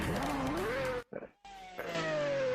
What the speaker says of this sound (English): there is the Pagani Zonda Revoluzione engine start.